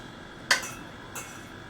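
A spoon or utensil knocks against a bowl while turmeric, salt and spices are mixed, giving one sharp clink followed by a softer second tap about half a second later, close and otherwise quiet.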